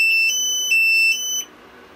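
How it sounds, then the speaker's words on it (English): A homemade X-ray machine's audible alarm beeps loudly in short, high-pitched repeated tones for about a second and a half, then cuts off, leaving a faint hum. "Here's the audible alarm"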